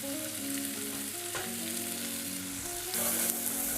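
Onions sweat gently in a hot pan for a spicy breakfast, a steady close sizzle running continuously while a melodic tune plays over it.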